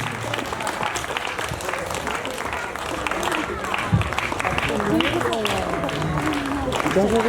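An audience at a Montfort Day school event applauds with steady, dense clapping under continuous crowd noise and a voice speaking over it.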